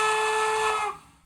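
A Norfolk and Western single-chime steam whistle sounds one steady, bright blast, then cuts off and fades quickly into silence.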